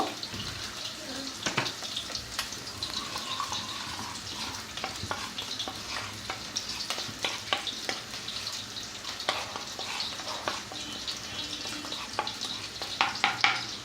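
Onions frying in a pan for a bean-seed and dried fish dish, a continuous sizzle with scattered scrapes and taps of stirring throughout.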